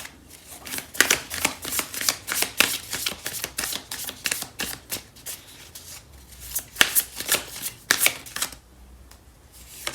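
Tarot and oracle card decks shuffled by hand close up, a rapid continuous run of crisp papery riffles and taps that ease off near the end.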